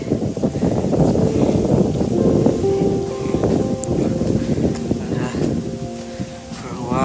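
Wind blows outdoors in nature, a loud, steady rush that buffets the microphone and stirs the leaves, with a voice talking over it.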